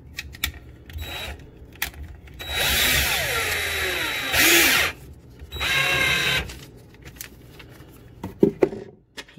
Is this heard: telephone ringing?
no